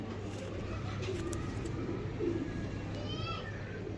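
A pigeon, a Zaak Cheeny Black Cobra tournament breed, coos softly a few times, low and throaty, against a quiet, steady background hum.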